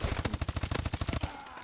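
Rapid automatic gunfire from Call of Duty: Advanced Warfare, a dense burst of about fifteen sharp shots over a second and a quarter, loud and close, then cut off abruptly into a quiet tail.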